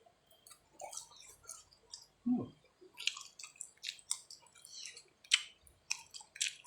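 Close, wet chewing of northeastern Thai tadpole mok that was microwaved and then grilled, with soft squishy bites and small clicks spaced irregularly, no talking.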